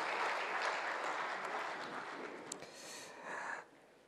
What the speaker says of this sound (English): Please, another round of applause to the Dean of the Diplomatic Corps